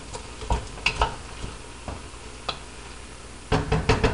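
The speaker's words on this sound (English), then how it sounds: "I would fry them with the onions for about 2 minutes" Frozen green beans frying with onions in a pan for a Lebanese beef and green bean stew, a low steady sizzle broken by scattered utensil knocks and scrapes, busier toward the end.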